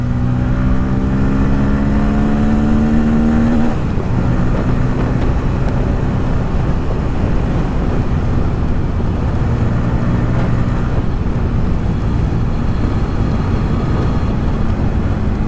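A motorbike ridden along a road near the Shri Sammed Shikhar Ji pilgrimage site, its engine droning steadily and close with rising and falling pitch under constant wind rush, no voices.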